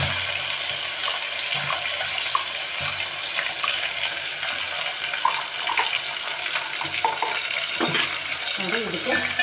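Ground masala tipped into hot oil with reddened garlic and curry leaves for a horse gram saaru, giving a continuous bright sizzle with scattered crackles and soft stirring scrapes throughout, without talk.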